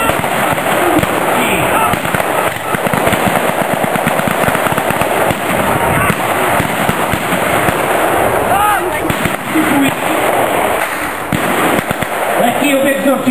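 Machine gun fire rattles through a battle reenactment of Czechoslovak soldiers against Germans, dense rapid bursts of shots continuing loudly and almost without pause, with a commentator's voice running underneath.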